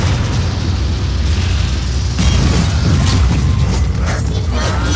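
A special weapon attack in the Warframe video game, giving a loud, sustained roar of blasts and crashing bursts that thickens midway and carries dense, continuous energy with no pauses.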